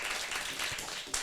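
A brief burst of applause from a church congregation, dense and even, lasting about a second.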